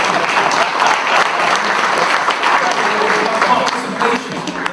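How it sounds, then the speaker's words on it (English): Sustained audience applause fills a hall at a corporate governance and sustainability awards ceremony in London, dense and steady throughout at close range. "I think we should give everyone who's not winning an award a huge round of applause for their participation"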